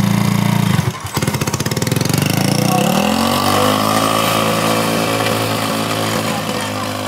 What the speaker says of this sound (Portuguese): Ela não parou de acelerar, Chris Brown.